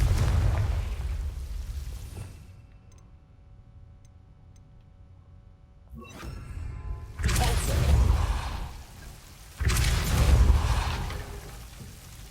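Confringo spell blasts in Hogwarts Legacy, a low rumbling burst that fades into quiet ticking and chimes, followed by two more heavy booming eruptions a couple of seconds apart.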